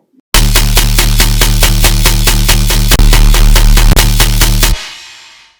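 A dense tearout synth bass pattern from Serum, heavily squashed by OTT compression, pumps out loud, steady rhythmic pulses for about four seconds, then cuts off into a short fading tail.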